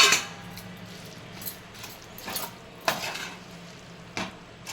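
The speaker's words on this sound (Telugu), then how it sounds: "డ్రై ఫ్రూట్స్ని ఇందులో వేసుకొని మొత్తం మిక్స్ చేసేసేయాలి" A spoon scrapes and stirs a boondi laddu mixture with dry fruits in a metal pan, giving soft, irregular strokes with a few sharper clinks, close up and with no talking.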